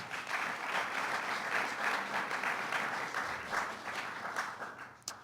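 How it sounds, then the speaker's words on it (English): A room full of people applauds steadily, a dense, even wash of clapping that carries on for several seconds before thinning out. "Let's give them a round of applause."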